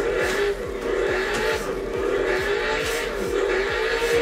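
A drift car in training alternates handbrake and throttle. Its engine revs and tires squeal in a quick repeating rhythm of short screeching pulses over a constant motor drone, close and loud, with no speech.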